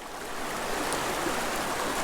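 A rushing mountain stream with strong current and small waterfalls, heard as a steady, dense, broadband roar of water, close and continuous without any talking.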